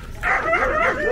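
A small dog in a Mexican family home gives a run of yipping, whimpering barks, close and fairly loud, lasting about a second with no talk over it.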